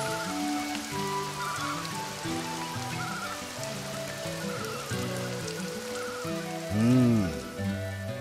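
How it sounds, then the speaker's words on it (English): Steady rain falls in the video game Northern Tale, a dense continuous patter on surfaces over a soft musical score, with no talking. "And there we go. We got rain."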